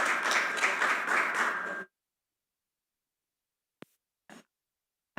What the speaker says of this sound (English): let's give Letitia a big round of applause